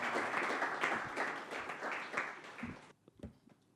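An audience at a Portuguese-language talk show breaks into steady, dense applause that holds for nearly three seconds, then cuts off to near silence with a few stray claps.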